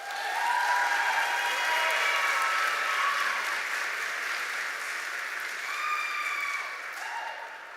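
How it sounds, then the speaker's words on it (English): A graduation ceremony audience gives a sustained round of applause, a dense, even wash of many hands clapping for several seconds. Faint cheering voices rise within it before it slowly tapers off. "Give her a round of applause."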